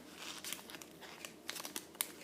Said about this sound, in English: Just folding them in, making sure the creases are lined up on